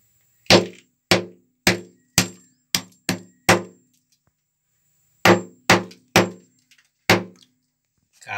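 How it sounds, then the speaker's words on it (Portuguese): A hammer strikes a concrete block on a farm, trying to break it open: about eleven sharp, ringing blows in two bursts with short pauses between them, loud and close, with no talking. "Tentar aqui com o martelo quebrar o bloco."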